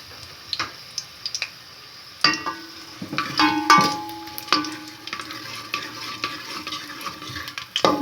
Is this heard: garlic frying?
yes